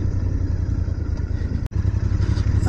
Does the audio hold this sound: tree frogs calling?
no